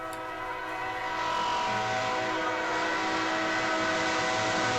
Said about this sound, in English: Man, that is a good sounding horn.